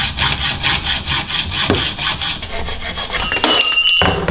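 A hand saw cuts through an aluminium awning rail for a van, with close, loud, rhythmic back-and-forth strokes scraping through the metal.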